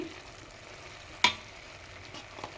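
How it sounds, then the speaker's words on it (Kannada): Cooked rice is stirred into a spinach mixture in a pan for palak rice, a low sizzle broken by one sharp tap of the spatula against the pan. "ಇದಕ್ಕೆ ಉದುರುದ್ರಾಗಿರೋ ರೈಸ್ನ ಇದಕ್ಕೆ ಹಾಕ್ಕೊಳ್ಳಿ ಹಾಕಿ ಮಿಕ್ಸ್ ಮಾಡಿ"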